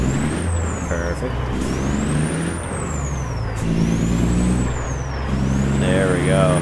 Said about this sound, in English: The turbo blow off on this thing is just unreal.